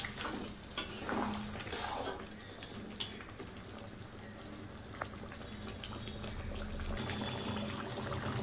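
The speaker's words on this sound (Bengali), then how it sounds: "আমি ঝোলের জন্য জলটা দিয়ে দিলাম" Water pours into a pan of mutton curry to make a thin gravy, a faint, steady trickle and splash with a few soft clinks of the pan, set against low kitchen background noise.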